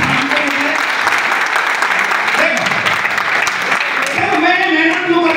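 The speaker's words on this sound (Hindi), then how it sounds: "अरे कब तालियां बजा दो यार," An audience at a talk breaks into loud, sustained applause that fills the whole stretch, with voices and cheering mixed into the clapping.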